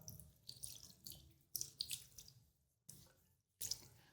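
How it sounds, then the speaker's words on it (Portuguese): Tap water running at a salon sink while hair is wetted, a soft splashing hiss that comes in uneven bursts with brief pauses, faint and close. "vamos molhar esse cabelo"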